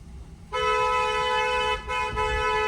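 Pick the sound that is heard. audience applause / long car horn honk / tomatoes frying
long car horn honk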